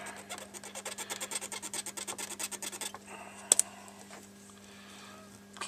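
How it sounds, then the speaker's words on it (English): Brisk back-and-forth scrubbing on the tarnished metal contacts of an Amstrad CPC 464, a rapid rhythmic rasp lasting about three seconds up close, then a quieter scratchy pause with a couple of sharp clicks. "clean all the tarnish and all the crud off these contacts"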